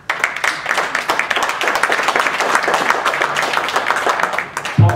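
An audience at a town board meeting claps steadily, many hands together in a dense, sustained round of applause nearby, with no talking over it.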